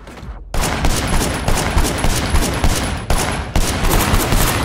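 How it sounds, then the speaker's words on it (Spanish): Rapid automatic gunfire in the open-world action game Sleeping Dogs crackles loudly and densely in sustained bursts, broken by a brief drop-out of the fire near the start. "¿Quién me dispara?"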